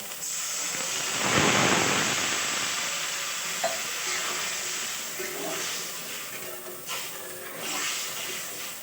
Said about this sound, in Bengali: লবণ পরিমাণ মতো কষানো হয়ে গেছে জল দিয়ে দেবো